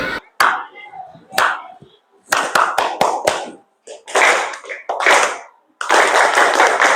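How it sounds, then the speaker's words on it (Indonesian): A classroom of fourth-grade children breaks into bursts of hand clapping, sharp irregular claps in separate rounds with short pauses between them, the final burst a dense sustained wash of many hands, with voices mixed in. "Tepuk tangan semuanya."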